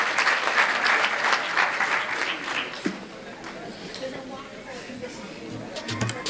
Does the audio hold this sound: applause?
yes